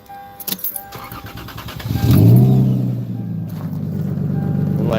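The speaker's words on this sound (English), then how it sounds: "It is louder than, you know, I want it to be. Especially on cold start. With one muffler off." A 23-year-old Lexus with one muffler off fires up on a cold start, a close, loud exhaust rumble swelling after some handling noises and holding a steady, throaty drone.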